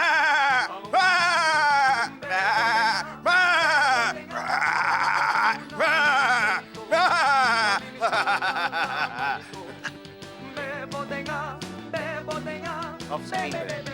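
A goat bleats repeatedly in loud, wavering calls, with several closely spaced cries, some overlapping and some separated by brief gaps, over a busy background that includes music.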